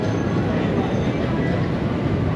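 Loud, steady rumble of a train rolling past close by in Bangkok, a dense continuous roar with no break.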